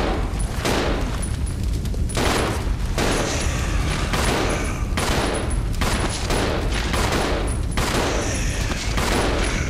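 Rapid bursts of gunfire from the video game Resident Evil 0 repeat in loud, closely spaced volleys throughout, with booming shots over a dense game soundtrack.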